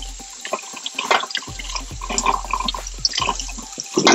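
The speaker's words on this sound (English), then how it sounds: "I'm gonna go wash these, rinse them off, make sure all the stuff is gone" Fiddleheads rinsed under a running kitchen tap: irregular splashing and spattering water with soft low thumps as the ferns are moved and handled in the sink.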